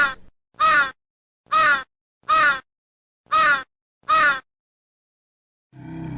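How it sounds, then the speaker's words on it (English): Six loud, harsh crow caws come in a steady rhythm with short pauses, close and clear, then a low rumbling noise at the very end, as a sound effect for a fairy tale about a crow living in a treetop nest in a forest. "a crow was living in its nest on the top of a tree in a forest"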